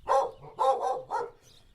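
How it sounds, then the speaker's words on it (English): A palomino-coated farm dog barks close up at a microphone, three sharp barks in quick succession followed by a faint trailing whimper. "Back on the farm with Stacy and Olivia, their palomino-coated dog named DOG seems a bit suspicious of my microphone"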